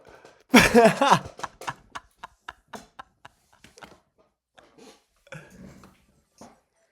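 A dog on a phone playing a TikTok clip, heard as a loud burst of growly barking followed by a series of short, sharp clicks and small yelps at an even pace, then a few fainter sounds.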